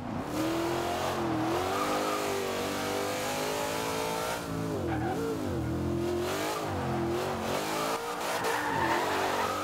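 A stock 2015 Corvette Z06 in the racing game Forza Horizon 2 roars continuously at high revs, its engine pitch rising and dipping with gear changes and occasional tyre squeal, loud and close throughout.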